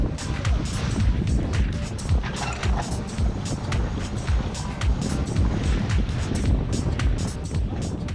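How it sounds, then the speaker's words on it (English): A heavily heeling sailboat pushes through the water in a strong wind while the mainsail is raised, with rushing water and wind broken by repeated low thumps and slaps in an uneven rhythm. "we decided to raise the main."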